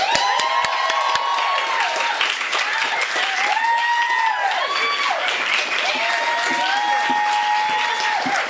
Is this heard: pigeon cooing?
no